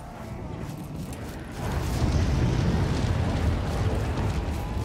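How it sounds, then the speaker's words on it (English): An explosion in Black Ops 3 Zombies on the Der Eisendrache map swells into a loud, sustained rumbling roar after a quieter opening, then holds that heavy low boom to the end. "That is how we blow things up in Russia."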